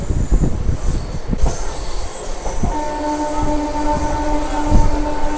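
A MEMU train departs Annavaram station alongside the platform, its loud rhythmic wheel clatter and rumble joined midway by a sustained, tonal horn or wheel squeal that carries on to the end, with no voices.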